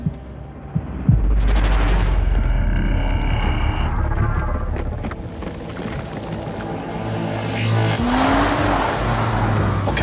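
A Jaguar XF AWD is driven hard through a cone challenge course, engine revving loud and close, with rushing noise, a sharp tire squeal and shifting engine pitch as it accelerates and turns.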